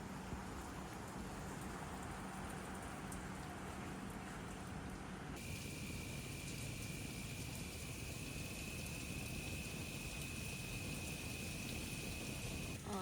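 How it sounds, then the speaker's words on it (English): Steady rain pours outside on a stormy day, a dense, even hiss with constant patter filling the whole stretch at moderate loudness. "Oh no, it's raining."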